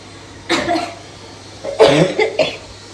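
A person coughing near the microphone: two bursts, a short cough first and then a longer harsh fit of several coughs, loud and close with no talking.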